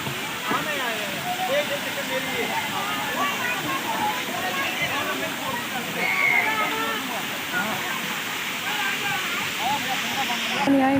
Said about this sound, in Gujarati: પાણીના ફુવારા ચાલુ છે